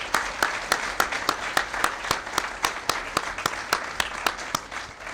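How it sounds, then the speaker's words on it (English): Hall audience at a university speech showcase gives the speakers a big round of applause, a steady wash of many hands with a few sharp claps standing out at a regular pace throughout. "May I ask for a big round of applause for all speakers again."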